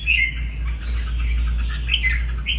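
Red-whiskered bulbuls squawk and chirp while fighting, harsh close calls in short bursts over a steady low hum.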